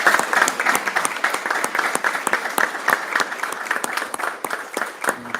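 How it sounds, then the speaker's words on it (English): Members at a North Carolina APCO and NENA chapter meeting give a steady round of applause, many hands clapping together in a dense, continuous patter that carries on throughout with no talking. "We can get a round of applause for the membership."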